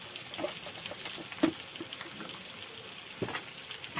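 Salted onions sizzle quietly and continuously in a pan, with a few soft taps and scrapes from stirring.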